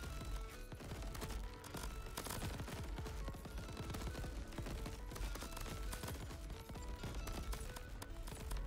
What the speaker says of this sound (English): we are firing just too dang fast